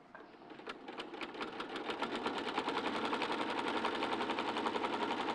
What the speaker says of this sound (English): with the walking foot on, it's feeding all these layers in really nicely.